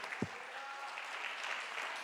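A church congregation applauds during a sermon, soft continuous clapping from many people in a reverberant hall, fairly faint and steady, with a single low thump near the start.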